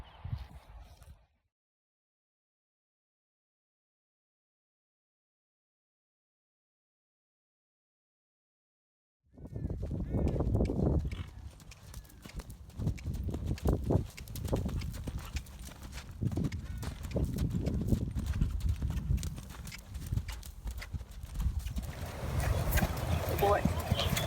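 Hooves of a naturally gaited horse clip-clop at a steady pace after a long silence, with people talking over the hoofbeats and continuous outdoor noise underneath.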